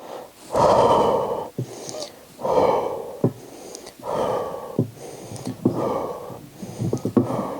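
Forceful exhales during reverse hyper push-throughs in a gym, repeating roughly every second in a steady rhythm, loud and close with breathy snorting bursts and brief pauses between.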